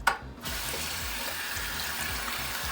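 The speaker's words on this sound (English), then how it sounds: "We're just gonna rinse it off." Tap water runs steadily over a brined turkey in a sink, a close, continuous splashing rush that starts after a brief clunk and keeps going without talk.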